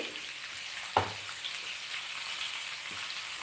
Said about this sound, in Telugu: ఇప్పుడు ఇవి బాగా వేగాలి కొంచెం హై ఫ్లేమ్ పెట్టుకొని